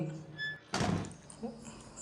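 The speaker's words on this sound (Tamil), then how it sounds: "கதவு கொஞ்சம் மெதுவாக மூடினா பரவாயில்ல." A door in the horror video game Outlast bumps shut inside a security control room, giving one close, dull thunk. A faint rustle and low ambience follow.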